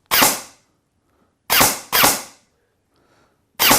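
Three sharp shots from an Amoeba M4 (AM-008) airsoft replica, each a crisp crack with a short decay, the second pair close together, then a fourth at the end, with quiet between.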